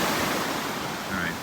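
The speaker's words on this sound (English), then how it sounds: "As the tide goes out, shallower water allows the small waves to break." Small waves breaking in shallow water as the tide goes out at Wellfleet, a continuous close wash of surf with a faint higher tone near the end.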